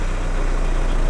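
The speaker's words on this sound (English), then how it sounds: "We're gonna start the car." A car fitted with a VNT turbo engine running, a steady low rumbling engine drone close by, continuous and even for about a second with no distinct starter crank audible.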